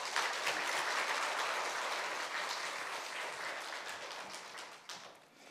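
Warm, sustained applause from a church congregation welcoming a retired senior pastor to the pulpit at a Sunday morning service, dense clapping that stays loud and slowly tapers toward the end.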